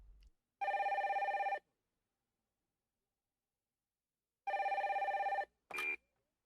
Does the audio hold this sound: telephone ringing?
yes